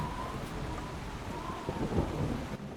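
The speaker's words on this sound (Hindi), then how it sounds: "यह बारिश रुकने का नाम ही नहीं ले रही।" Steady heavy rain pours down while low thunder rumbles in the background, with no voices.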